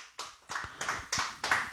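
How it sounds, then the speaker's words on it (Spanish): A church congregation claps for Christ during a sermon, giving about six sharp, evenly spaced rounds of clapping in quick rhythm. The clapping is fairly close and stands alone without talk. "Dale palmas a Cristo con ganas"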